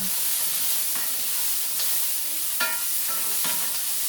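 Food sizzles gently in an iron skillet as a spatula scrapes and stirs it in a few distinct strokes over a steady background hiss, close and unaccompanied by speech.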